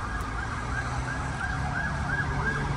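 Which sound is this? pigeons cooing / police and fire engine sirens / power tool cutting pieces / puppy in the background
police and fire engine sirens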